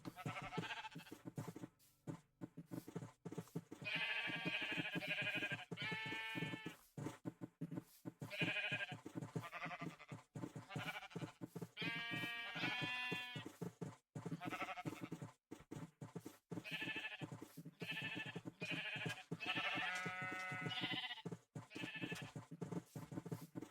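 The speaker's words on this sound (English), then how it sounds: "So many sheep." Flock of blocky sheep in Minecraft bleating repeatedly, several overlapping wavering bleats spread across a quiet background with occasional gaps.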